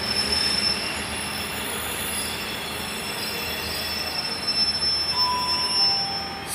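Class 143 train wheels squeal at a station as the units pull in, with high, thin screeching tones held over a constant rumble of rolling stock, fairly near and continuous throughout.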